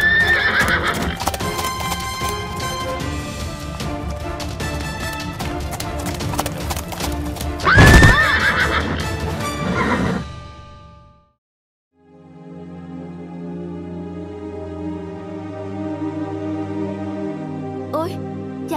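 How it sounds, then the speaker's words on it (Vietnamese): Cartoon horse neighing loudly with clip-clopping hooves, repeated whinnies over rhythmic hoofbeats, then a short silence before quieter hoof and tonal sounds resume. "Đi ra mau, con ngựa lười biếng này."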